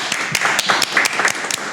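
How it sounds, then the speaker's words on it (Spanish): Strong applause from a podcast's live audience: dense, close clapping, steady for a couple of seconds with no talk over it. "Un fuerte aplauso para ellos"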